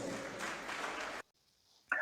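Studio audience applause for departing guests of a political talk show, a dense steady clatter that cuts off abruptly midway, followed by near silence and a sudden loud burst at the end.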